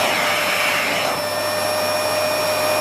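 Miele S8 / C3 Complete cylinder vacuum cleaner running at maximum power, a steady close whooshing roar of airflow with a constant motor whine, alone and unbroken.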